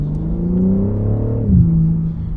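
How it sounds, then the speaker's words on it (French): A BMW M3 CS G80 accelerating: a loud, steady engine-and-exhaust drone rises in pitch, then dips sharply at a gear change and carries on, heard from inside the cabin with no talking. "vous avez entendu que ça a libéré un petit peu l'échappement"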